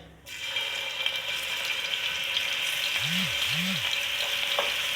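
Steady, close sizzling of garlic ginger paste frying in hot cooking oil, a continuous hiss with a couple of soft low scraping stirs near the end.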